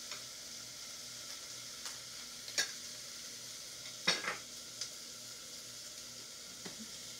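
A broccoli soup base sizzles faintly in a pan, a soft steady hiss broken by a few sharp clicks and scrapes of stirring.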